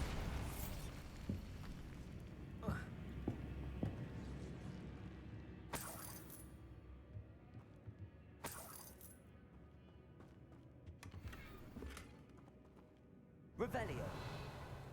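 Bombarda spell blasts in the Hogwarts Legacy game, several sharp bursts spaced a few seconds apart, each a loud crack with a shattering tail, mixed with other game effects while a voice speaks between them.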